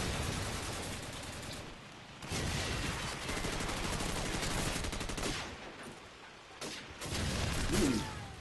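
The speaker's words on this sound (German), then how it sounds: "Shotgun." Shotgun blasts ring out in Call of Duty 4 amid dense gunfire, loud bursts recurring over the mix with brief quieter gaps between them.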